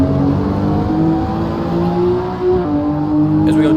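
A Toyota Supra GT4 race car howls through a qualifying hot lap, loud and close, its engine note climbing through the gears and dropping briefly at an upshift, continuous with no talking.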